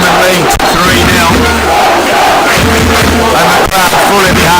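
Spectators at the 2023 European Canoe Polo Championships cheer and shout loudly throughout, a dense, continuous crowd roar with bursts of yelling rising over it.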